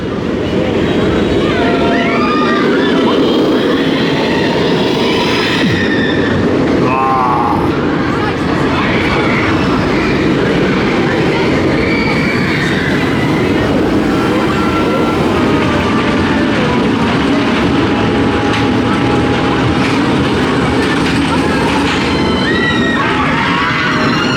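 A roller coaster train on the Nemesis ride at Alton Towers rumbles and rattles along the track with a steady, loud roar, distant screeches and voices of a crowd mixed in throughout.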